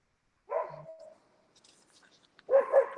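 Dogs bark indoors, with a couple of short yelps early on and a louder pair of barks at the end, separated by faint rustling.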